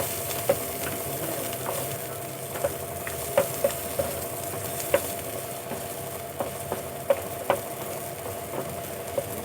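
Chopped ginger, garlic and green chili fry in a pan with a steady sizzle, broken by light scraping clicks of stirring at irregular intervals, close and moderately loud with no talking.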